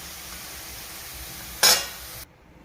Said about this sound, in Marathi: आता ही भाजी आता मी परतून घेते